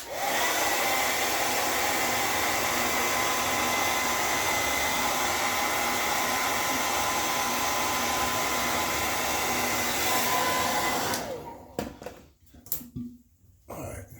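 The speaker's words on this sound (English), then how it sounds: "let me run the blow dryer back there one more time" A blow dryer runs continuously and loudly while brushing out a trimmed beard, a steady roar for about eleven seconds before it switches off into quiet handling sounds.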